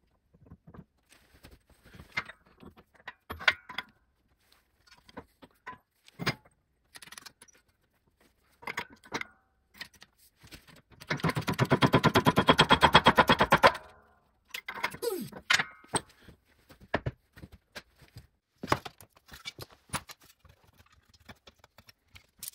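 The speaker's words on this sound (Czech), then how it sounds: "máme to nalisované, jak ložisko, tak náboj" Front wheel bearing and hub of a Skoda Octavia Mk1 being pressed together in a press, a steady grinding, rumbling push for about three seconds midway, framed by scattered clanks and taps of tools and parts.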